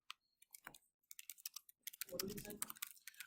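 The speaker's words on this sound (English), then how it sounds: "I'm going to type in node server.js to run my server here" Command typed on a computer keyboard, rapid close key clicks in short irregular bursts, denser near the end, with a voice speaking over part of it.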